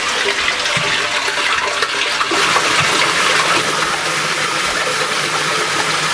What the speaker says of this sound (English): So now the water is going to fill up, and the connecting hose is still there